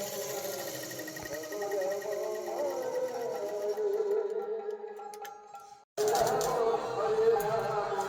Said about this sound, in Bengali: মা এই যে এখন সেলাই করতে বসেছে।